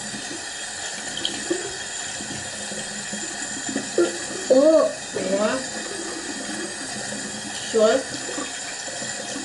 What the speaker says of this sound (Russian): Выключай водичку.